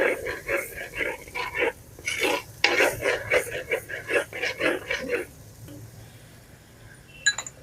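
Gongura chicken with green chillies is stirred in a clay pot: a brisk run of rhythmic scraping strokes, close and fairly loud, for about five seconds, then a quieter pause ending in a light clink.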